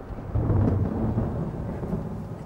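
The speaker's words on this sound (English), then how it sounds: "Is that a storm?" Deep thunder rumbles from a thunderstorm in a film, a heavy rolling low roar that swells after a short pause and then lingers, with a faint hiss of rain beneath it.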